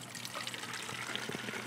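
A 50-50 mix of CLR and deionized water pouring into a container, a continuous close splashing trickle that stays steady throughout.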